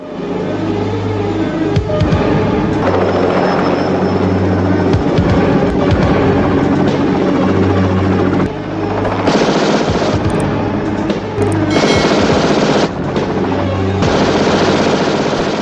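Sustained rapid gunfire with crackling bursts and steady helicopter rotor drone underneath, from a film, loud and continuous throughout, like an intense action scene with no speech.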